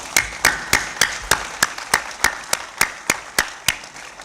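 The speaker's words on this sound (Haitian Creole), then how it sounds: "l'applaudissement s'il vous plaît." Applause for a volleyball team at a sports gathering, a steady run of sharp, evenly spaced claps about three per second, close and fairly loud with no talk over them.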